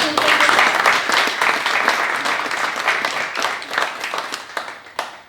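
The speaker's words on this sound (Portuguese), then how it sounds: "Eu acho que eles merecem mais uma salva de palmas." An audience claps steadily at a book presentation held during a cultural week in Fajões, a loud and sustained round of applause that gradually thins and ends with a few final claps.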